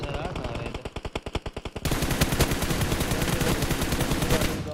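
Sharp rapid automatic gunfire in PUBG Mobile, a burst of distinct evenly spaced shots followed by a denser, louder sustained barrage of overlapping fire.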